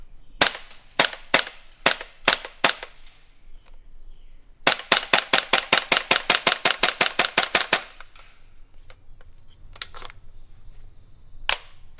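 Beretta PMX gas blowback airsoft SMG firing loud sharp shots, first in a string of separate single shots, then a rapid sustained burst, followed by a few scattered shots amid quieter background noise.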